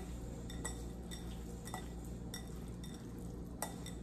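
Lemon-pepper seasoned salmon being stirred and mixed in a bowl or pan, with soft scraping and occasional light clinks of a utensil over a steady low background hum.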